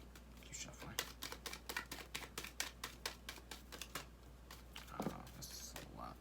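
Tarot cards are shuffled by hand, making a steady run of crisp, close riffling snaps with a low hum underneath and brief rustles near the end.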